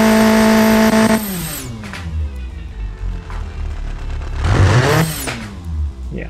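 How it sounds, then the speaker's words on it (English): An inline-four engine in the Automation car game revs hard to a loud high scream, cuts off, then idles and burbles with popping exhaust before revving up again near the end, alone without talk. "The engine sounds very mean, very brutal, and of course very loud, and the exhaust is popping and banging"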